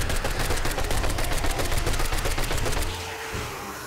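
Rapid sustained SMG bursts in a survival video game during a horde-night fight, loud, fast and evenly spaced, cutting off near the end into quieter ambience.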